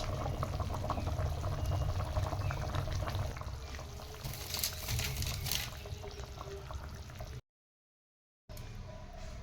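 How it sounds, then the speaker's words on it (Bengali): Mustard hilsa curry simmers in a pan, a continuous close bubbling hiss with brief brighter crackles, broken near the end by a short silent gap before the bubbling resumes. "মাছটা আমার রেডি হয়ে গিয়েছে, ফুটে আস্তে আস্তে ফুটছে"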